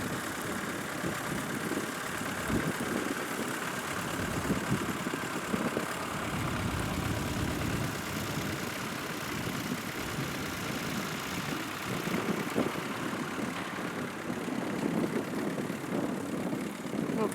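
A small McCormick International tractor, without power steering, runs steadily at a young farmers' working day event, its engine holding an even, continuous drone throughout.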